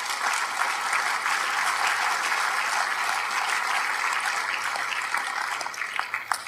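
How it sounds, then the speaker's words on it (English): Audience at a Redding Tea Party political debate between LaMalfa and Keene gives a sustained round of applause, a thick, steady wash of clapping that holds for several seconds and eases slightly at the end. "Let's give these guys one more round of applause"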